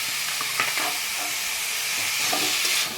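Drumstick flower mash with poppy seed paste stir-fries in a pan, giving a steady close hiss and sizzle with faint scraping stir strokes throughout.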